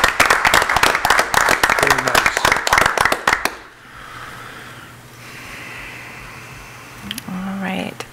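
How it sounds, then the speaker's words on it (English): Applause from attendees at a board of education meeting, a dense burst of clapping lasting a few seconds before fading into room noise, followed by brief speech. "And a round of applause for those great donors."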